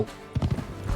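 A horse in the Witcher 3 video game clip-clops with a short burst of several low hoofbeats in quick succession, close and moderately loud, within a brief one-second moment.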